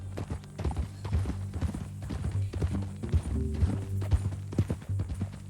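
Horse hooves clip-clop in a steady uneven rhythm at moderate volume in the video game Red Dead Redemption 2, with soft thuds and a faint background hum.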